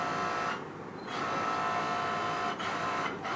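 Sewing machine running steadily while stitching a dupatta, a continuous close mechanical whir with a couple of brief dips where the stitching pauses.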